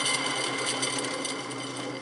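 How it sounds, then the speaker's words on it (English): Worn bearing in a riding mower's idler pulley spinning, a steady whirring hum with a light metallic chatter, close and continuous throughout with no talking. "Part of my noise is coming from here."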